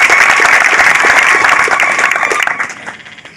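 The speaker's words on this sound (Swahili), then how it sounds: "Mgeni makofi sana" An audience gives loud, sustained applause to welcome Kenya's Inspector General of Police, Douglas Kanja. The dense clapping holds steady and then thins out and fades toward the end.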